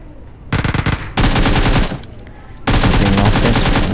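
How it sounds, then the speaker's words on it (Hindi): Loud automatic gunfire in PUBG Mobile, with an MG3 machine gun: rapid bursts of close shots, one short burst and then two long sustained volleys separated by brief pauses, with no talk over it. "सामने से फायर हुआ।"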